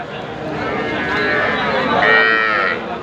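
Young heifer calves mooing with drawn-out, wavering calls over a busy crowd of voices at a cattle market in Ambari, one louder bawl rising near the end.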